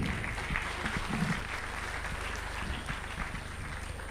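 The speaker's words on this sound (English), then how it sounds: "with a huge round of applause." Audience applause at a stage event welcoming a company co-founder and CEO, steady continuous clapping from a seated crowd, moderately distant and even throughout.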